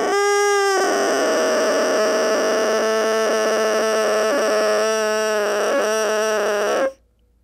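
A bassoon reed crows alone, a loud buzzy multi-pitched tone sustained for several seconds with slight wavers before cutting off abruptly.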